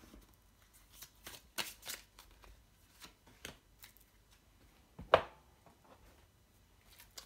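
A deck of oracle cards is shuffled close by, giving soft papery riffles and flicks in irregular bursts, with one sharper slap near the end, in an otherwise quiet room.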